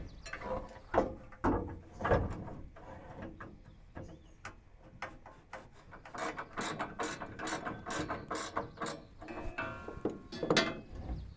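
A hand ratchet tightening bolts and washers through the rail on a 2019+ Ram 2500-3500 HD short-box truck bed panel install, with rapid clicking runs repeating close up and a few quieter pauses between strokes.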